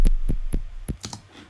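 Serum synth bass from the Drop Gun pack, in a remix: four short, punchy low thumps in a quick regular pulse, then a softer, brighter tail.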